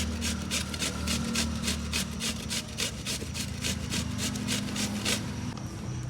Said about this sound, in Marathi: हे बघा असा बारीक असा कांदा मी किसून घेतलेला आहे